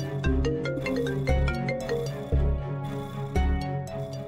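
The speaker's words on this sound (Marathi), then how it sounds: "काय रिपोर्टर दळवींचा फोन?" A phone rings with a melodic electronic ringtone for an incoming call from a reporter, with repeating musical phrases and a soft low pulse every second, steady and clear with no talk.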